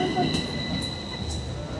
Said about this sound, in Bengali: আমাদের ট্রাম চলে এসছে।